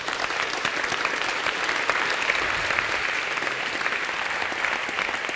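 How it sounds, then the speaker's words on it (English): Sustained, even applause from a roundtable audience congratulating a vote winner, a continuous crowd of clapping hands at steady loudness with no pauses. "Big round of applause."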